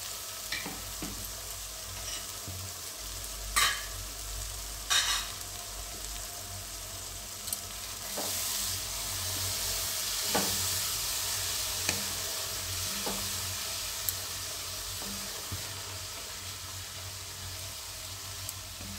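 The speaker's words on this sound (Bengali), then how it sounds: "আমি সামান্য মশলা ধোয়া জল দিচ্ছি যাতে মশলাটা না পুড়ে যায়।" Spices sizzle steadily in a pan after a splash of spice-rinsing water for a broccoli curry, with occasional sharp clinks and scrapes of stirring over the continuous frying hiss.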